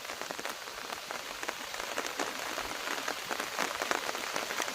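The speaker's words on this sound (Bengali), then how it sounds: "প্রচণ্ড পরিমাণে বৃষ্টি হচ্ছে ওই দিকটা" Heavy rain pours down over a river, a dense and steady hiss of drops hitting the surface, loud and continuous throughout.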